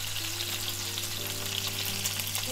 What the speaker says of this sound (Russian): И на этом же ароматном масле слегка обжариваем сосиски и охотничьи колбаски